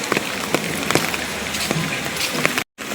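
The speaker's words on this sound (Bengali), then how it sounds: "আর একটানা বৃষ্টি হয়ে যায় একরকম ব্যাপার, টিপ টিপ করে বৃষ্টি হলে আর একরকম ব্যাপার।" Rain falls steadily on an open umbrella along a rough road, a continuous close patter with occasional louder drops and a brief cut near the end.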